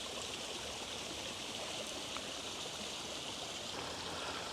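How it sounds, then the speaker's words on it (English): Water spilling from small waterfalls into a garden creek and pools makes a steady, even rushing hiss that stays constant throughout, fairly soft, with no voices. "You hear all this water noise in this garden all the time."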